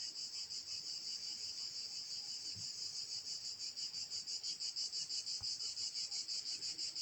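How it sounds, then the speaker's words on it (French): Cicadas drone steadily on a warm night, a continuous, pulsing high-pitched buzz with a regular rhythmic throb, fairly soft and unbroken, with no voices over it. "Laisse-toi surtout emporter par ma voix et par ce son des cigales."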